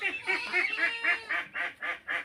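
Ducks quack and honk in a run of about eight loud, close calls in an uneven rhythm, from a flock kept with fourteen-day-old ducklings.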